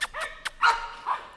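A dog gives a quick run of short barks and yips, some with a whimpering edge, in irregular close bursts with no talking.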